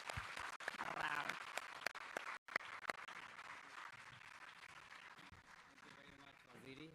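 Audience applause welcoming His Excellency the President at a formal event, a sustained, fairly distant roar of clapping with a few sharp nearer claps and a brief break, crowd voices murmuring underneath.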